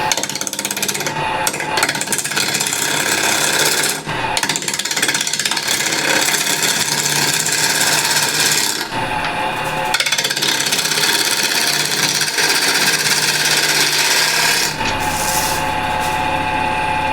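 A spindle gouge cuts into apple wood spinning on a lathe at around 1000 RPM, a steady loud scraping hiss with brief dips where the tool lifts off, close up and continuous.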